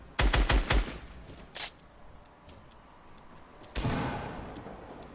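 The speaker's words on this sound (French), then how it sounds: "il tire dans les construits" Gunfire in a solo battle royale video game as a player shoots at building structures, a rapid burst of several loud shots followed by scattered single impacts and a later hit, with no talking.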